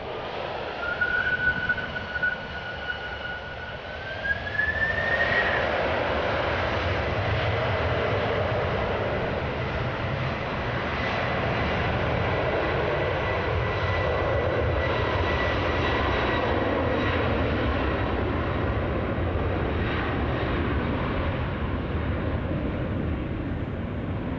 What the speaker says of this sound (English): TUI flight 1635 this is, Boeing 767-300 going to Gran Canaria.